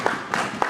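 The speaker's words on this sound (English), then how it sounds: "Will you give a clap of praise to them?" A church congregation claps in praise for the pastors, a brief burst of applause with a few sharper hand strikes standing out in a reverberant hall, no voices over it.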